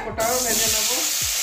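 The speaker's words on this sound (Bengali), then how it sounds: "এবারে আলু কটাও ভেজে নেব।" Boiled potatoes tossed with a little turmeric frying in a pan, a loud close sizzle starting abruptly and holding steady, with a few soft stirring knocks.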